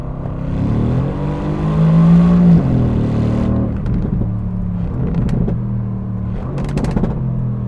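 A Mercedes-AMG E63 S V8 revs hard on a race track, a loud sustained rising engine note that peaks, then drops into lower rumbling gear changes and short pops as the car pulls away.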